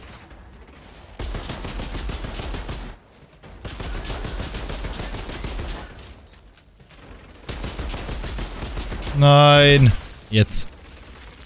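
Fully automatic gunfire in the shooter game Outriders, rattling in long sustained bursts separated by short pauses, loud and close, with brief spoken words between bursts.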